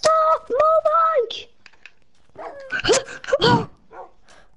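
Minecraft dogs barking in the game, a run of sharp, close yaps followed by a second cluster of barks and whines, with short pauses between.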